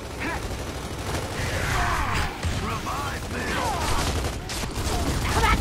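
Video game gunfire crackles in continuous rapid bursts, dense and loud throughout, mixed with mechanical clatter and background game sound.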